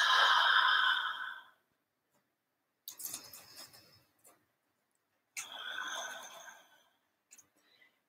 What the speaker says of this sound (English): Inhaling through the nose, exhaling through the nose or the mouth.